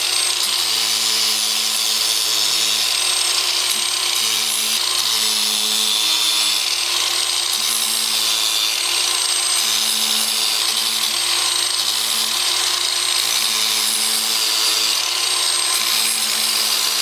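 A continuous high-pitched whine of a 2-inch sanding disc grinding against a turned wooden root ball on a lathe, steady and loud throughout with a low droning hum underneath.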